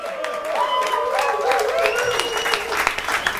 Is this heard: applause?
yes